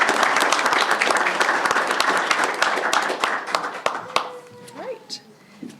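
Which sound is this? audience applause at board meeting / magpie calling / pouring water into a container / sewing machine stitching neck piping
audience applause at board meeting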